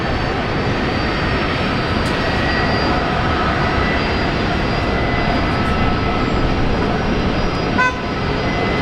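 An airliner taking off from Brisbane Airport runway 19 left, a loud, steady, broadband engine roar sustained throughout with a faint tonal whine on top.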